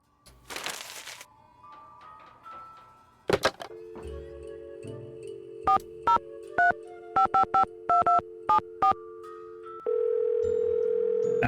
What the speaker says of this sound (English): Now someone's phone is ringing